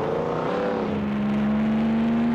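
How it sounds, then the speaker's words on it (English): Destruction Derby on PlayStation: a car engine revs up, rising in pitch, then settles into a steady high whine, loud and alone with no talk. "just the sound effect of the car revving up and then crashing"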